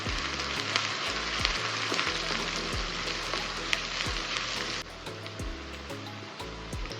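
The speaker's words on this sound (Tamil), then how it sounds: "ஓகே, வெங்காயம் ஒரு 2 நிமிஷத்துக்கு வதங்கட்டும்." Small shallots and curry leaves frying with fennel in a hot pan, a steady loud sizzle with occasional crackles and light stirring scrapes, continuous and close, with no talking.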